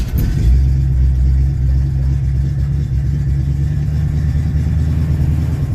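A 1967 pickup truck engine revving loud and rough on a cold start with a noisy, worn exhaust, a steady close drone that swells at the start and holds without speech.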